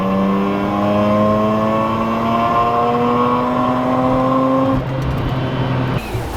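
A Mazda RX-8 with a rotary engine revs up steadily, its pitch climbing smoothly for about five seconds before dropping back to idle, loud and close throughout with no voices.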